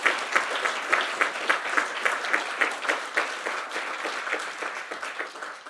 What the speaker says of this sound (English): Maybe we can give especially Iago a big applause.